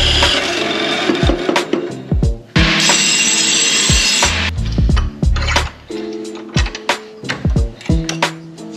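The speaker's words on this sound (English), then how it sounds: "So I'm going to cut some pipe up." A power saw cutting 1.5-inch and 1.75-inch steel exhaust pipe for a car exhaust manifold, loud and close, in repeated bursts of harsh rasping cut by sharp metallic knocks and clanks as the pipe is handled.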